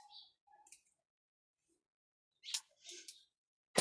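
Scissors snip plant-support tie to length in a polytunnel, a few quiet clicks and short snips separated by gaps of silence, close up.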